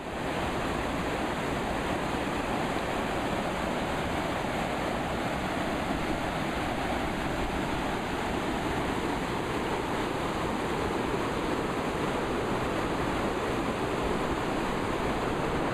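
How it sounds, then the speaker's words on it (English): Half Moon Creek rushing fast over a series of small waterfalls below Mount Massive, a constant loud broadband roar of water close by with no voices. "here's Half Moon Creek moving pretty quick. This morning we could hear it, but it was too dark to see it. There's a whole series of waterfalls in through here."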